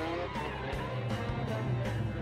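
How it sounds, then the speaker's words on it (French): Nissan 200 drift car sliding through a show run, its engine droning loud and steady with gritty tire-skid noise, the pitch rising and dipping in repeated surges roughly every half second to second. "Ben Norris commence sa séance de spectacle, dérapant à bord de sa Nissan 200"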